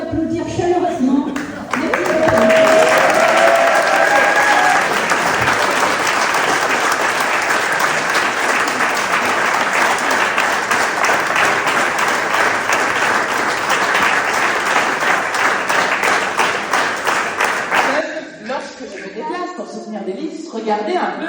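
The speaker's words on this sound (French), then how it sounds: "Je vous demande d'applaudir chaleureusement." An audience at a political rally in Chenôve, France breaks into loud, sustained applause that holds steady for many seconds before dying down to a quieter murmur of clapping and voices.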